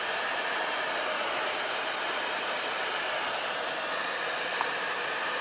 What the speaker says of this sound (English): So I'm gonna hit this with a blow dryer